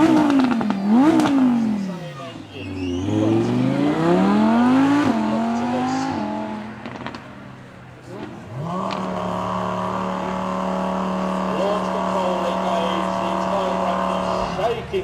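A supercar at the Beaulieu Supercar Weekend revs loudly and climbs through several rapid, fraction-of-a-second gear changes, the pitch rising and snapping back between shifts before settling into a steady, close-up drone.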